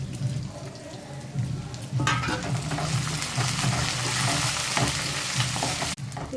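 Peanuts, dried red chillies and curry leaves fry in oil with a continuous sizzle that jumps louder about two seconds in as more goes into the pan, with scraping stirs and a brief quieter gap near the end.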